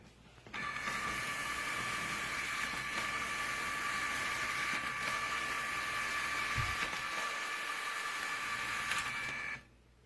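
An Epson WorkForce ES-C320W compact desktop document scanner runs a quick one-sided scan, a steady close mechanical whir with a high motor whine, starting abruptly and stopping after about nine seconds.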